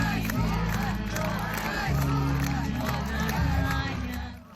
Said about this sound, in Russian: ветеранов Великой Отечественной со всех районов республики встречают овациями